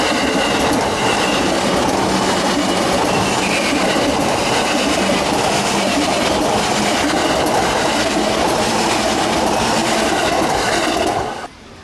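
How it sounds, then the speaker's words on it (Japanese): A Yamanote Line train rumbles past close by at its only remaining level crossing, near Tabata Station in Tokyo, with steady rolling clatter and wheel noise, loud throughout before cutting off abruptly at the end. "田端駅を過ぎると山手線に残る唯一の踏切に来ました。"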